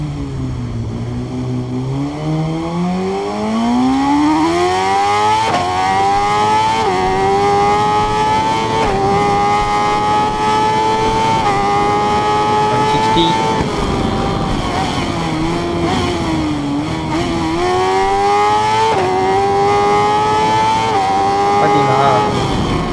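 A BMW S1000RR motorcycle with an Akrapovic exhaust in the game Ride 5 revs and accelerates, its engine note climbing steadily then holding a loud, continuous high-pitched wail with brief dips at gear shifts.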